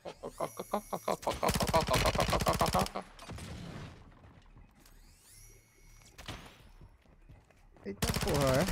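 P90 gunfire in Call of Duty Warzone 2.0: rapid, loud automatic bursts open the scene, followed by a quieter stretch of game noise and a final sustained burst of fire.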